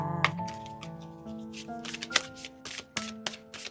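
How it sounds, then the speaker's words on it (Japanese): Oracle cards shuffled and drawn during a tarot reading, a series of sharp papery slaps and riffles over a soft sustained musical background, close and moderately loud. "ちょっとオラクルカードを引いてみます"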